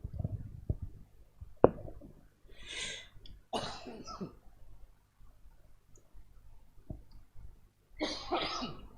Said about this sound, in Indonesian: saya minta maaf karena saya masih ada masalah batuk